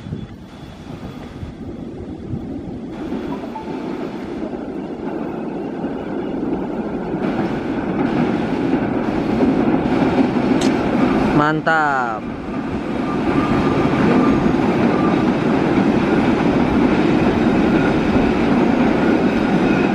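The Galunggung passenger train in Cipendeuy, Indonesia, rumbles steadily along the rails on a downhill track, growing louder as it passes, with wind buffeting the microphone and a brief voice near the end.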